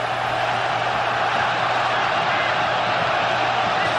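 São Paulo supporters in a packed stadium during the 1992 Campeonato Paulista final against Palmeiras, a steady, dense roar of crowd noise with faint cheering, under commentary throughout.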